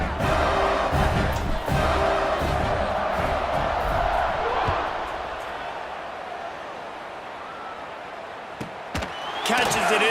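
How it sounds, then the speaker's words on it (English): A stadium crowd at a college football game between Tulane and UAB, a loud, steady roar and buzz of many voices that eases slightly midway before swelling again, with a few sharp thuds and bursts. "this crowd is buzzing after that last score"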